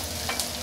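Vegetables with carrots being stirred in a hot frying pan, giving a steady close sizzle broken by two quick scraping clinks of a spoon against the metal.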